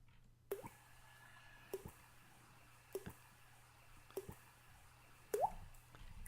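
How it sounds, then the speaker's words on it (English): Wet fish slapping down onto a stage floor in a hand-drawn video game, five soft squishy smacks spaced about a second apart, the last one longer and sliding, over a quiet low hum. "Listen to the sound of the fish smacking up against the stage floor."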